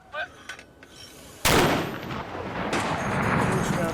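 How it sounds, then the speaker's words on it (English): A heavy mortar round fired by a British mortar team at Kajaki base in Afghanistan gives one loud close boom, followed by a long rumbling roll and echo across open ground. "the mortar team are tasked to engage the enemy"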